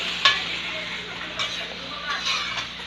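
Potatoes and carrot are stirred in a pan while making chicken curry, giving a steady close sizzle with scraping strokes and a few sharper clinks.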